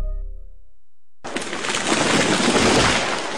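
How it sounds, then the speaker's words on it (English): A sudden, loud crashing roar of a tree falling, cracking wood and rushing branches, follows a low rumble, filling the space with sustained broadband noise. "That was the sound of a tree falling."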